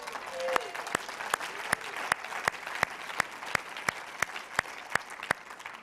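A church congregation's clapping, heard as sparse, evenly spaced sharp claps in a steady rhythm over a faint room murmur, with a brief voice early on.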